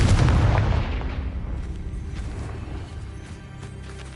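A heavy spell explosion from a Harry Potter-style video game, Bombarda or Confringo, opening with a loud low boom that rumbles and slowly fades into a decaying crackling tail, no talk over it.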